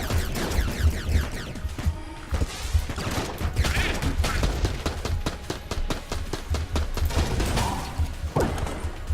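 Sustained gunfire in Enter the Gungeon, rapid dense bursts of shots with crashing impacts running nearly nonstop, loud and busy throughout with no talking.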